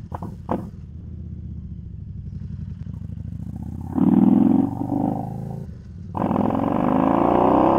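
Harley-Davidson Street Rod 750 motorcycle being ridden along a road, a steady engine drone that swells into louder, harsher revving bursts around the middle and again near the end, close and continuous with no speech.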